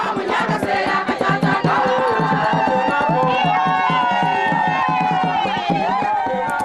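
A crowd gathers for a Lunda-Ndembu celebration of the Zengamina hydro scheme in Zambia, with loud overlapping voices, chanting and singing, plus rhythmic stamping and clapping near at hand.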